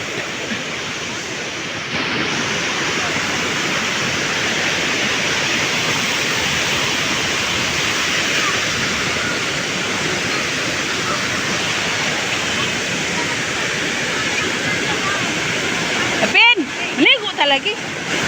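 Tinuy-an Falls pours in a continuous, loud, close roar of rushing water that holds steady throughout, with a few voices breaking in briefly near the end.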